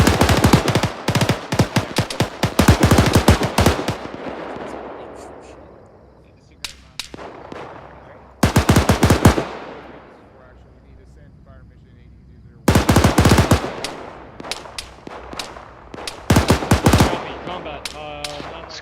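Loud bursts of machine gun fire crack out in several long volleys during a heliborne assault field training exercise, with short pauses and decaying echoes between the bursts.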